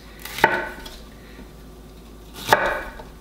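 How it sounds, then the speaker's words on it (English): A kitchen knife slices bell peppers into julienne strips against a cutting board: two sharp, close chops about two seconds apart with quiet in between. "So I like to just go and make my little julienne strips"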